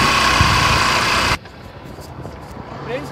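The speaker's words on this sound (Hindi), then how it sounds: "अब हम बाइक चला रहे हैं।" A motorcycle engine runs loud and rough while the bike tows kites outdoors, a dense steady rumble that cuts off abruptly partway, leaving quieter wind and background noise.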